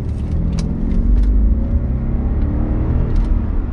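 A 2011 BMW Alpina B7 with its twin-turbo V8 idling and being blipped, a deep close rumble that swells briefly in revs and settles, with faint clicks and light noise over the steady engine tone.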